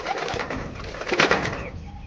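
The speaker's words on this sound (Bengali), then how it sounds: "তো দেখো এই যে সব কটা কবুতরই রয়েছে।" Madrasi pigeons coo in soft, throaty, rolling calls close by, several birds overlapping in a continuous murmur with one louder burst near the middle.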